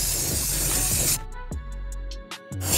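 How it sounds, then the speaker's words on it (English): Black paint sprayed from a rattle can around the edge of a cardboard target template, a steady close hissing burst that cuts off, followed by a few short spurts. "Spray around the perimeter with some standard old"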